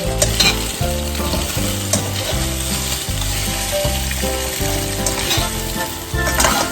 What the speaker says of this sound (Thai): คลุกเคล้าทุกอย่างให้เข้ากันนะคะ ตอนนี้เร่งไฟเป็นไฟกลางได้เลย